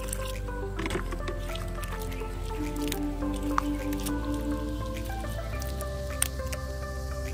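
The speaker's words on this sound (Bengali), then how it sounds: "এরপর এর মধ্যে দিয়ে দেবো জল। এবার এটাকে ভালো করে মেখে নিতে হবে।" Clay soil is mixed with water and kneaded by hand to build a mud stove, giving steady wet squishing and dripping close up over soft background music.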